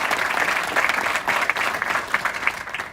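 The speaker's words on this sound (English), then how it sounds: "So round of applause." Loud, sustained crowd applause at a U.S. Navy Memorial Blessing of the Fleet ceremony in Washington DC, dense clapping filling the whole stretch with no talk over it.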